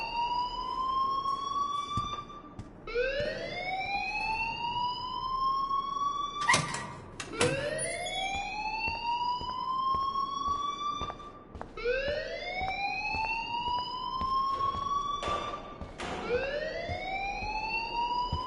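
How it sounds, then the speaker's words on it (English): In the video game Life is Strange, an alarm siren wails in repeated rising sweeps, loud and steady, each cycle lasting a few seconds, with faint clatter and no speech. "Leave Miss Caulfield alone, and please turn off that alarm since that's your job."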